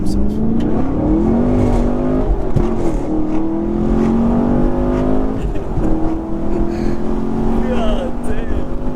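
A Camaro SS 1LE accelerates hard on a public road, its loud engine note climbing steadily in pitch through the gears, close and sustained with road and wind roar underneath.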